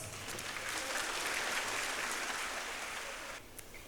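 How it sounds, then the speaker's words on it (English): Audience at a school annual programme applauds in a steady, dense wash of clapping for nearly four seconds, then tapers off. "Let us welcome her on stage with a loud round of applause."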